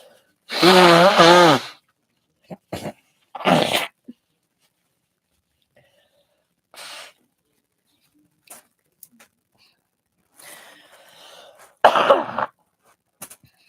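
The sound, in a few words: blowing nose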